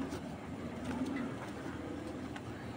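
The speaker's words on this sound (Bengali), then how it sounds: "দর্শক এখন দুইটা ক্লাবের কবুতর দেখাচ্ছে" Racing pigeons of a maxi racer breed coo in a low, steady murmur at a bird seller's loft, a continuous close cooing with a few faint clicks and shuffles over about three seconds, with no talking.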